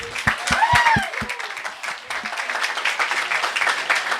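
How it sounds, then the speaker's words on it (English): A crowd at an outdoor Tea Party rally in Hopkins County applauds for the governor, a sustained wash of clapping with a few loud claps nearby and some cheering at the start. "let's give one more clap for the governor."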